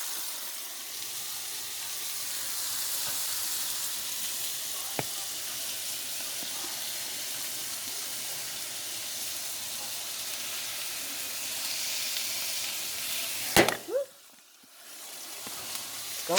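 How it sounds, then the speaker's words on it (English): Garlic and string beans sautéing in a pan give a steady broadband sizzle through most of the stretch, then a brief clatter and a sudden drop near the end. "I'm going to add some garlic and string beans and let that saute"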